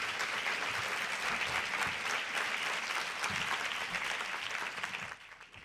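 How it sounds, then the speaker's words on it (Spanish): Audience applause at an education conference opening, a dense, steady wash of clapping from a large crowd that fades slightly at the very end, with no talk over it. "Un aplauso, les podemos despedir de manera cálida."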